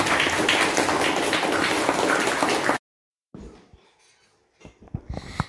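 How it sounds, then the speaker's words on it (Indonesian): A classroom crowd claps for a primary school student's electrical series-circuit presentation: dense, steady applause for about three seconds that stops abruptly. After a pause, a few faint scattered taps and knocks follow. "Tepuk tangan."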